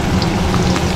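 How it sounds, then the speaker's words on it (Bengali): Onions fry in a pan for a mutton curry, giving a brief, close and steady sizzle with no talk. "পেঁয়াজ ভাজবো।"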